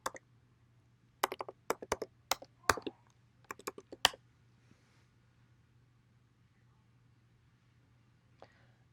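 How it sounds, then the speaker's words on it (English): Someone types a password on a computer keyboard in a few quick bursts of close, crisp key clicks over a low hum, then stops into near silence. "I'm going to type my password in."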